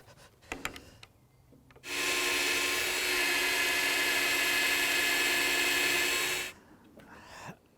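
A twist drill bit bores steadily through wood for about five seconds, a loud, even whine during work on an urban logging trailer, with quieter handling noises before and after.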